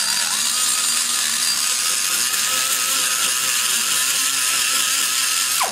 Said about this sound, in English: If you go in here with a smooth cutter like this